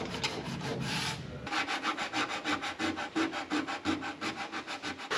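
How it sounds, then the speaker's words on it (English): Hand sanding on the rear clamshell bodywork of a barn-find Ferrari BBi under restoration: a long continuous scrub, then a steady run of close, rhythmic back-and-forth rubbing strokes with no talking. "that means I have to sand most of it back by hand"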